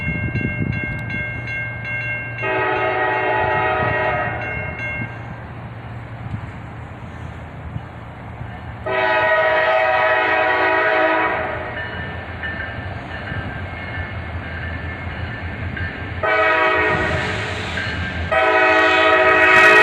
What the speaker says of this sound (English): About 45 minutes later, the next one arrived, this time in northbound.